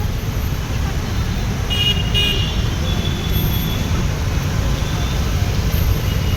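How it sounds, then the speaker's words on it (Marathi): Road traffic in a jam in Nanded, a constant loud rumble of engines with a few short car horn toots, one cluster close and a fainter one later. "पूर्ण नांदेडमध्ये ट्रॅफिक जाम आहे."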